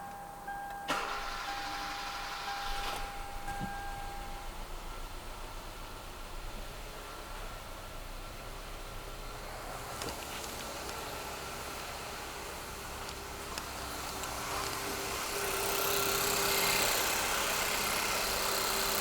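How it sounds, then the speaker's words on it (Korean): A car engine cranks and catches after a cylinder cleaning treatment, then settles into a steady idle that swells slightly louder toward the end, with no one speaking. "자 시동을 걸어 보도록 하겠습니다"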